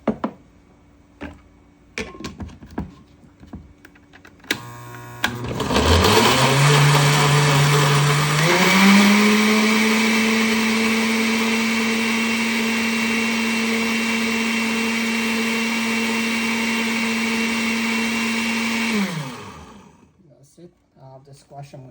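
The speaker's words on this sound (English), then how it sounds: "I'm gonna blend it." Kitchen blender whirring through hot pepper, onion and water for Guyanese curry paste, a loud steady motor whine that rises in pitch after a few seconds and then stops, with faint talk before it starts.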